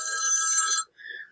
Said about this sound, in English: that's my alarm telling me I've got work soon